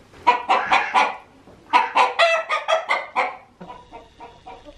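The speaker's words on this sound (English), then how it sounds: "Chickens in a cave." Close, loud chickens cluck in quick rhythmic bursts inside a cave, several birds calling in overlapping runs with short pauses between.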